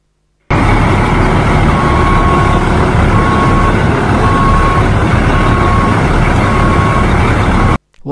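A toy cement mixer truck gives a steady, loud, continuous engine drone with faint repeating tones, running without a break for about seven seconds with no talk.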